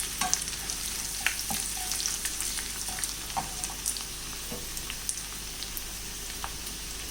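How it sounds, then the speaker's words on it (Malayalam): Finely chopped ginger and garlic fry in a pan for an egg masala curry, with a continuous close crackling sizzle broken by scattered sharp clicks and scrapes as the mixture is stirred, and no voices. "ഒരു ചെറിയ കഷ്ണം ഇഞ്ചി പൊടിയായിട്ട് അരിഞ്ഞത് ഇട്ട് കൊടുക്കാം. ഇത് നമുക്കൊന്ന് ഇളക്കി കൊടുക്കാം."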